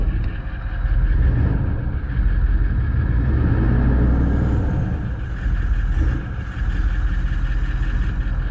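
At a vehicle auction, a car engine runs loud and close with a deep, dense rumble, swelling in a quick rev and easing slightly before holding steady, with no talking.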